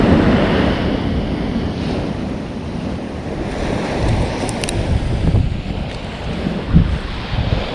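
Ocean surf from a small one-to-two-foot swell rolls steadily onto a Northern California beach, a continuous loud wash with wind buffeting the microphone and no voices.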